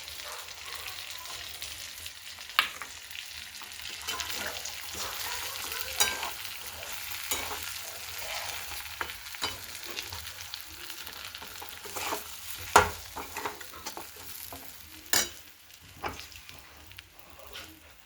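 Eggplant pieces sautéing in masala with ground peanut powder in a pan for Maharashtrian vangyachi bhaji, a steady close sizzle broken by scraping spatula strokes and occasional sharp clinks against the pan, no talking.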